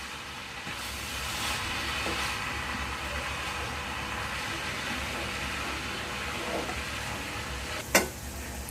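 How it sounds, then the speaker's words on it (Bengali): Meat being stirred with spices in a sizzling pan, a continuous frying hiss with occasional scraping stirs and a sharp clink of the utensil near the end. "এখন এটা ভালো করে মাংসের সাথে মিশিয়ে নিতে হবে যাতে চারদিকে মশলাটা মিশে যায়"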